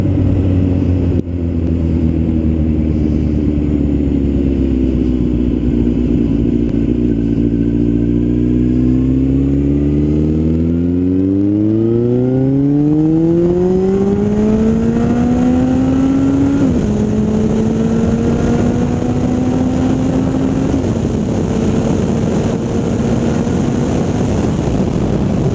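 A 2008 Suzuki Bandit 1250S motorcycle engine rises steadily through the revs while riding, a loud, close, sustained drone climbing in pitch, then shifting gear and holding higher steady tones with wind noise.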